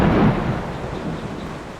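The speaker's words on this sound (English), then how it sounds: "Look at that rain." Heavy rain with a rumble of thunder at Arenal Volcano: a loud low rolling crack at the start fades into a dense, steady hiss of rainfall.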